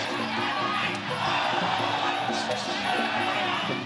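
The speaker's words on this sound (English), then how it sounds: "You can really hear the crowd behind Nurlanlek" A crowd at an MMA fight night roars and chants in rhythmic waves in the background, while commentators talk steadily over the noise.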